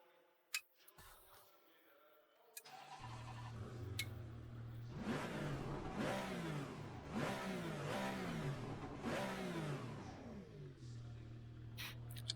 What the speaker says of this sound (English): It's got that unmistakable Porsche engine note and exhaust sound.